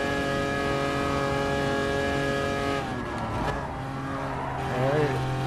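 Lancia Stratos race car driven in GT Sport, a steady high engine tone with stacked harmonics held for several seconds, then shifting and wavering as the car slides and revs, loud and close with no talk.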